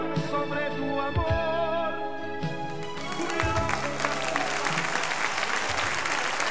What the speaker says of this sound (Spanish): Fuerte el aplauso para Salo Reyes.